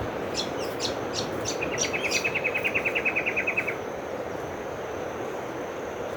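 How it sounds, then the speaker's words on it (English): Birds calling in a national park, a quick run of repeated bright chirps rising above a steady hiss of insects, fairly close, with no voices. "I'm trying to find the birds so I can show you."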